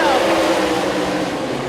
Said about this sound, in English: Off the 4th turn, Terry Gray hits the throttle